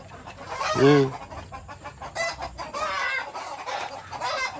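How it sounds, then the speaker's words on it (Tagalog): Silkie chickens clucking up close, with one loud drawn-out cluck followed by several softer, choppy clucks and calls, and other birds faintly in the background. "Let's go to the silky. Silkies."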